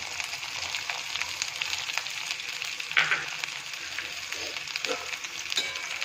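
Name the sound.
finely chopped onion frying with roasted cumin in oil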